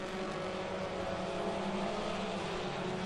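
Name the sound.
ministock race cars racing at Ohsweken Speedway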